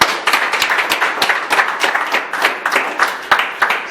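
A modest audience claps, a brisk burst of many overlapping hand claps at steady loudness throughout, sounding like a small group indoors.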